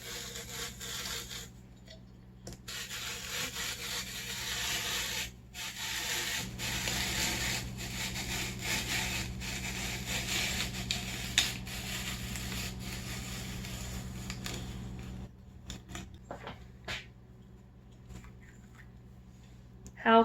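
A vintage 19th-century apple parer turns an apple against its blade, giving a steady mechanical ratcheting and rubbing whir with faint clicks that runs for about fifteen seconds, then stops into quieter handling noises.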